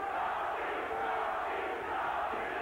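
Boxing arena crowd roaring and cheering on its feet in the final round of Tony Baltazar versus Roger Mayweather, a steady dense wall of voices throughout with no clear commentary on top.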